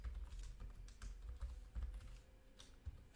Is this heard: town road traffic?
no